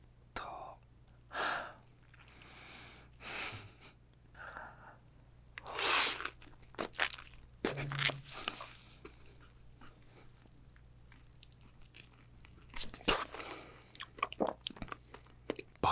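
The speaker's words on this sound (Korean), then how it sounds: "이거 통째로 한번 씹어 먹어보겠습니다." Raw tuna sashimi dipped in soy sauce and wasabi is chewed close to the mic, with soft wet mouth sounds, sporadic crisp clicks and bites, and brief breaths against a quiet low hum.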